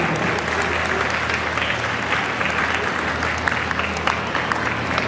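An audience at a ZooExpo dog breed demonstration gives loud, steady applause for a herding dog team. The thick, continuous clapping of a large crowd lasts for the whole stretch.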